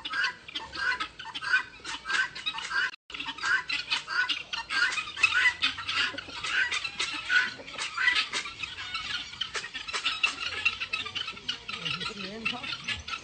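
Chickens cluck and squawk steadily at close range, a dense rhythmic chorus of short calls from a flock, with a person's voice occasionally mixed in.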